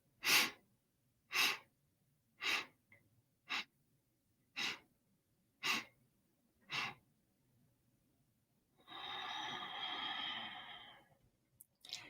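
Breathing exercise with seven short, sharp inhales spaced about a second apart, followed by one long, steady exhale lasting several seconds, close and clear in a quiet room with no talking.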